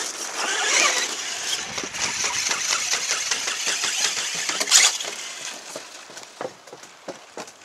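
A Traxxas Slash RC car with a Novak 10.5 Pro motor running on a rainy, muddy backyard track, its motor whirring continuously up close with rapid mechanical ticking and a brief louder burst midway.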